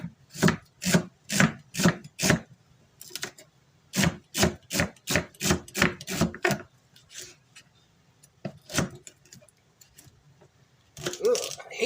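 Knife chopping two celery stalks on a cutting board, rapid rhythmic bursts of crisp, close, woody taps in quick runs separated by short pauses, with a brief rustle at the end.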